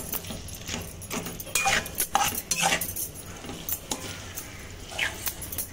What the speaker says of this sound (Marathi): आता ह्याच्यामध्ये हे बोंबील टाकून मिक्स करायचं